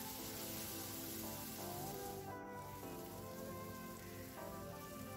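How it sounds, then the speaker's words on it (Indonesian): Lemongrass and kaffir lime leaves stir-frying in a pan as a shrimp dish is cooked, a steady, soft, continuous sizzle and crackle with no voices. "sekarang kita masukkan daun jeruknya, ditumis kembali sampai harum."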